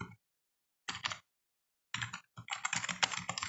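Quick bursts of keystrokes on a computer keyboard while a file name is entered, a short clatter, a pause, then a longer busy run of typing, close and clear.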